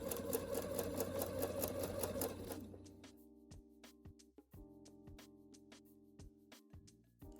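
A sewing machine hemming a dress ruffle runs in a fast continuous burst, then slows to separate stitches and clicks with short pauses, close and clear with no talking.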